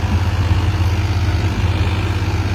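Engine-driven pump draining stagnant floodwater in Barangay Dela Paz, Biñan City, Laguna, a steady low droning engine hum with a rhythmic throb, close and continuous with no talk.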